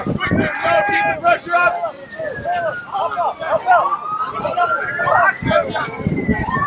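Police sirens wail in the distance at an outdoor sports game, with a rising and falling tone running through several seconds beneath wind noise and shouted voices on the field.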